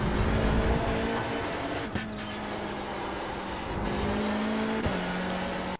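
A race car engine at full throttle on a track, a loud sustained drone with pitch steps as gears change, ending in an abrupt cutoff.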